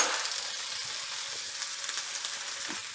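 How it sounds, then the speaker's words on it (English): Boiled, chopped pieces fry in a frying pan with a steady, close hiss and crackle that holds evenly throughout, with faint popping and no talking. "I think I'm gonna fry these up for up to 5 minutes"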